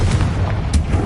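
A Confringo explosion spell in Hogwarts Legacy bursts as a loud, dense blast with deep rumbling booms and crackle filling the whole short moment, close and with no talk.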